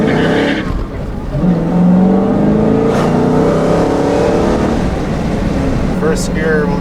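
A 2016 Dodge Challenger Hellcat with a six-speed manual is floored in first gear, its engine roaring loud and close and climbing in pitch as it accelerates hard, with a brief shift-like dip and a voice faintly under the engine.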